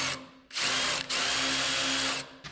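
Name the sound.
drill drilling out hinge bolts on a 1964 International pickup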